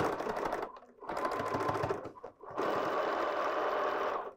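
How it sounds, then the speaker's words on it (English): Sewing machine stitching a straight quarter-inch seam on fabric for a strawberry pin cushion, running in three close bursts with short pauses between, loud and steady with no talking. "we'll sew this straight side with a quarter inch seam"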